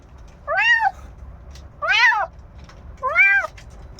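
A tiny, hungry kitten that was shivering from the cold gives three clear, high meows at a steady spacing, loud and close against a quiet background, with no talking.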